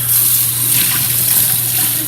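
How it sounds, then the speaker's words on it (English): Rice is rinsed under running water in a kitchen while making chicken pulao, a steady close rush of tap water filling and swirling over the grains with no voices. "I'm washing the rice, and I want to rinse it a couple of times"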